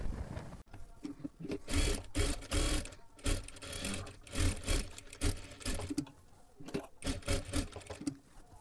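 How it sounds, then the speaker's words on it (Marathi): Sewing machine double-stitching lace onto a blouse neckline, close and loud, running in rapid mechanical bursts with short pauses and restarts, no voices. "आता इथे आपल्याला परत एकदा डबल शिलाई मारून घ्यायची आहे"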